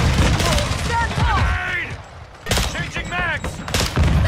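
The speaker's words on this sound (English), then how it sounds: "Shotgun, my boy." Rapid gunfire bursts from a Modern Warfare 2 match on the Shipment map, loud and close, with heavy booming shots, some mixed with voices and game chatter.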